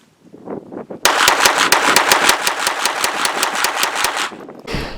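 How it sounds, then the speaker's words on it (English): Rapid string of shots from a KelTec PF9 pistol, roughly fifteen sharp reports in quick, even succession, loud and close, ending abruptly after a brief lead-in of low handling noise. "in my testing I am able to put 2 to 3 times the rounds per second with this pistol"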